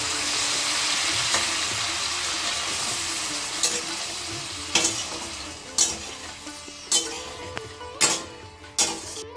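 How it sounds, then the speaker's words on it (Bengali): Spices and four slit green chillies with a little water frying in a pan for Bengali chana dal: a steady loud sizzle, then sharp rhythmic scrapes of a spatula against the pan every second or so. "এখন আমি মশলাগুলোকে ভাজা ভাজা করে নেব"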